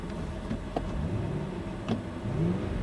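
An Audi A8 with the 3.7 engine, converted to run on LPG, runs smoothly at a steady moderate level with a faint whir and no voices.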